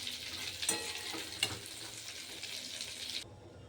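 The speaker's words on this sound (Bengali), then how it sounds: "এবার চিচিকাংড়াটা তেলে লাল লাল করে ভেজে নেব।" Small crabs fry in hot oil with a steady bright sizzle, broken by a couple of scraping stirs of a spatula in the pan, close and continuous until the hiss suddenly stops.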